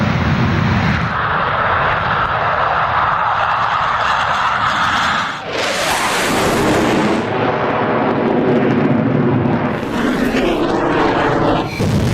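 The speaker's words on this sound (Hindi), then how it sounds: "रफाल ने एक के बाद एक मिसाइल फायर करनी शुरू की" Rafale fighter jets fire missiles one after another, heard as a loud, continuous jet roar broken by heavy booming bursts and a rushing sweep of sound.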